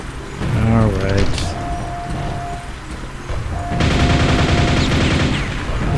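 Gunfire in Quake, with bursts of shots and mechanical weapon noise dominating the second half and a denser stretch of firing near the end, under a player's talk.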